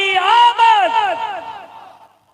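A crowd at a religious gathering shouting a slogan in unison, a loud chorus of many voices that rises, holds, then trails off and fades to quiet.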